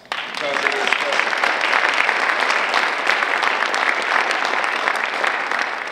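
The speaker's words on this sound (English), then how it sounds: "Give poetry a round of applause." Full audience applause in a lecture hall at an evening university diversity lecture, a dense, steady wash of many hands clapping from start to finish, with a few voices mixed in.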